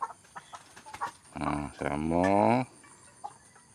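Village chickens and a large Japanese O-Shamo rooster cluck and call with a drawn-out, loud vocalization, and someone speaks briefly around the calls.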